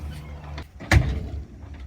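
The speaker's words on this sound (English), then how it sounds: "that noise is our donkey trying to get in here" A donkey shoves against a barn door from outside, giving a single hard thud and rattle of the door in the middle, with quieter creaks and knocks around it in a calm barn.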